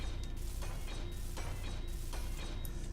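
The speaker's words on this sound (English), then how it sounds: "We have these, which I shall weld up right now." In Space Engineers, a ship welder steadily builds blocks, a dense, loud mechanical grinding rumble with rhythmic clanking pulses repeating about every half second.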